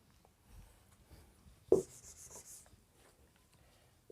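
Numbers being written by hand during a percentage lesson, with faint scratchy strokes and one brief sharper scrape of the pen or chalk partway through, quiet and close without talk.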